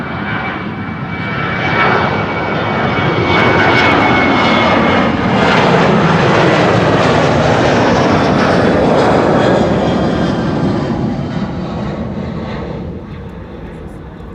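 A KLM Boeing 747 bound for Dubai roars down the runway on takeoff at Schiphol, a loud broad jet rumble that swells, holds and then slowly fades as it climbs away.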